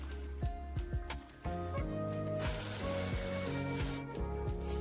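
A spray bottle hisses out mist in repeated bursts onto moss in a tarantula terrarium, close and fairly loud, over a background of steady tonal hum.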